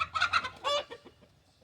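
Chickens on a farm cluck in a short burst of several quick, close calls, one rising squawk, then softer trailing clucks, with no talking.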